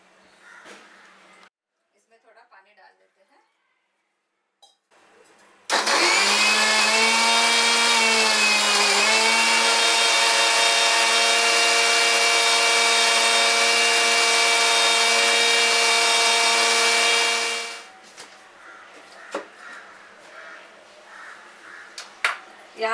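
A loud, steady mixer grinder motor grinds soaked kokum with water for around twelve seconds, its whine dipping briefly early on, then cutting off, with faint kitchen clatter before and after.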